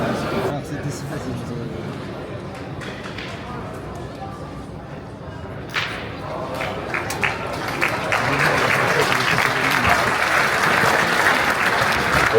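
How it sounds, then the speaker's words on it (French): A crowd at a pétanque tournament applauds, the clapping swelling louder and denser toward the end, with some voices mixed in. "On va applaudir bien fort Henri Lacroix, Laurent Masfaglia et Miguel D"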